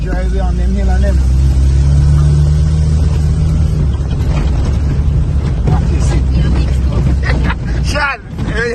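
A four-wheel-drive vehicle climbs a hill in fourth gear off-road near a waterfall, its engine a steady loud rumble with wind buffeting the microphone, while people talk over it.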